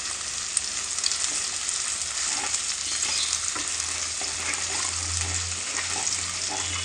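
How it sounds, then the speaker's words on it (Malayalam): Curry leaves crackling and frying in hot oil in a pan for a crab roast, a dense continuous sizzle with light stirring, close and steady, with no voices. "ഇനി അതിലേക്ക് കുറച്ച് കറിവേപ്പില ഇട്ട് കൊടുക്കുക."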